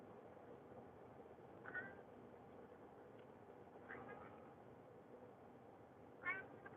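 A pet cat meows for food three times at intervals, each call short and moderately close, over a steady low background hum inside a car.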